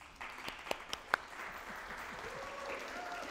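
Scattered claps from a university audience welcoming a guest artist, a few sharp distinct claps early followed by a soft, thin patter of applause at low level.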